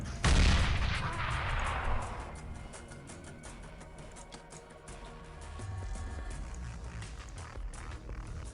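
In the video game Xpiratez, weapons open with a loud, close blast, followed by a long crackle of scattered gunfire and rumbling impacts that die down, then a softer second rumble.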